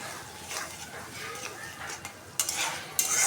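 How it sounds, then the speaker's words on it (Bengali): Garam masala with cinnamon and cardamom is stir-fried in a pan for an egg and potato curry, a close scraping stir over a soft sizzle, with sharper metal scrapes near the end. "মশলাটা একটু ভালোভাবে কষাই নিই।"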